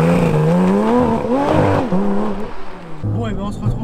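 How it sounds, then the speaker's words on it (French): A Porsche Cayman GT4 RS flat-six engine revs up and down in several rising and falling sweeps, loud and close, with some talk alongside. "qu'on aille démarrer ce superbe GT4 RS et qu'on aille écouter le superbe son de son Flat 6"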